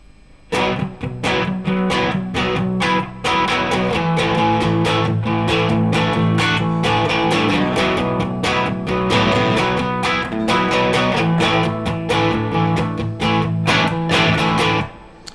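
Electric guitar with P90 pickups strumming rock chords through heavy echo, loud and continuous with a steady strummed rhythm from start to finish, no voices.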